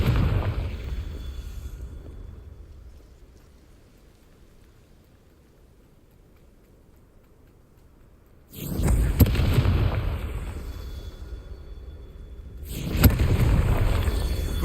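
Confringo fire spells from Hogwarts Legacy detonate as two loud explosive blasts, each a broad roaring burst about four seconds apart, with a low rumbling quiet stretch before the first.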